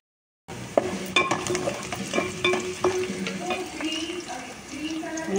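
Onions sizzle in a pan while being stirred, with the steady hiss of frying broken by repeated clinks and scrapes of the spoon, close and moderately loud.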